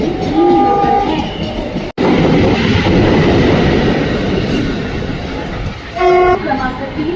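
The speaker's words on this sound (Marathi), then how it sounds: "क्रमांक 3 वर आलेली लोकल 4:12 छत्रपति शिवाजी महाराज टर्मिनसला जाणारी ही लोकल आहे।" A Mumbai local train arrives at the Bussy station platform with a loud, continuous rumble and clatter of wagons. Horn blasts sound at the start and again near the end.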